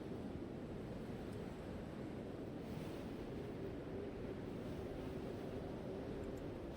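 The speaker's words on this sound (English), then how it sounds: "And the storm begins to get heavier. Windy. It's heckin' windy here." A steady, dense windy storm ambience plays for a fantasy tabletop game scene, a constant low rushing roar without breaks or voices.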